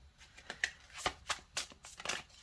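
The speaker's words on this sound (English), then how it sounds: "I'm actually finding it really hard to shuffle these cards." A deck of cards being shuffled at close range in a series of quick riffles and soft slaps, uneven and fumbling, with no talking.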